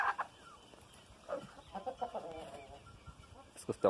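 Scattered clucking and short calls from a buff Orpington rooster, fairly close, with quieter stretches in between and a louder burst near the end.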